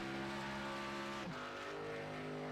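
A race car engine in an esports racing sim at Atlanta Motor Speedway, a steady loud droning hum with strong harmonic tones, a brief dip and shift in pitch midway, then holding on.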